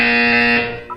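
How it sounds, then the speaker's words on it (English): A buzzer in the video game Portal 2, a single loud, steady electronic buzz lasting most of a second before cutting off. "When you hear the buzzer, look up at the ceiling."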